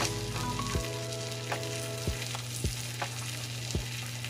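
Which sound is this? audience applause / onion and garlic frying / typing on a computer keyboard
onion and garlic frying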